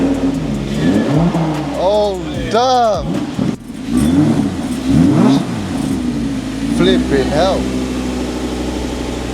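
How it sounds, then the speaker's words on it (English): An Audi R8 V10, rebuilt with a new engine block, cranks and fires up, then revs in several sharp blips that climb and fall before settling into a rough idle. A man exclaims over the engine close to the microphone. "Engine running, guys. Finally, the R8 V10 is up and running again."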